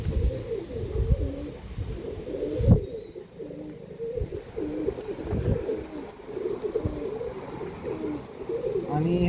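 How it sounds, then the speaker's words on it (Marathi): Two male Tenali tiger line racing pigeons from the red lal gajra line coo steadily in a soft, repeating rhythm close by. Faint background rustle and a few low thumps sit under the calls. "आणि हे कबूतर लाल गजऱ्यामधूनच बनलेले आहेत."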